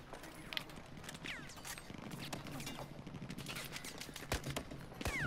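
Gunfire in the PS4 video game Battlefield 4 crackles in quick, scattered bursts of shots, fairly faint and dense, mixed with other in-game clatter.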